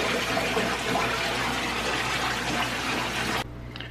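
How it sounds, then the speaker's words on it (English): Water rushes steadily through a newly filled FX6 canister filter on a 125-gallon aquarium tank, a loud continuous close-up hiss and gurgle that cuts off abruptly near the end. "that is a lot more water coming through there"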